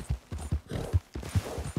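A horse's hooves clip-clop in a steady, fairly loud trotting rhythm in the Red Dead Redemption 2 video game, each footfall a distinct thud repeating close by with no talk.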